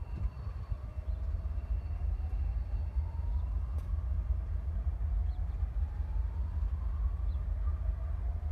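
Locomotives sit outside the Cumberland rail shops, giving off a steady low engine drone and rumble that holds at constant loudness throughout, with no talk over it.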